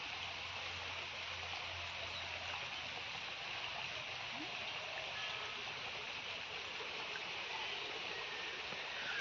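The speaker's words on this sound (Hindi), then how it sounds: "तो आप लोग देख सकते हैं पानी" Water flows in a soft, continuous rushing hiss at low volume, steady and unbroken, with no voices over it.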